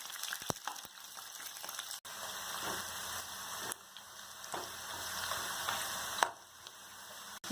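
Chopped onions frying in hot oil in a kadhai for kadhai paneer, a steady low crackling sizzle with a few sharp pops and stirring clinks, faint and continuous with no talk.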